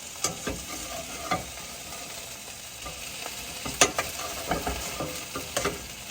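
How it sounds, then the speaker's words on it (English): Shredded hash browns, a single serving with parsley, fry in a pan with a steady close sizzle, broken by a few scraping stirs and clinks of a utensil against the pan. "Now that I see it in the pan, this is 1 serving being cooked."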